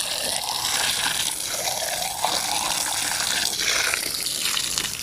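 Water is poured steadily over soil bricks made for an earthen house, a continuous close splashing hiss that runs without break and stays loud throughout.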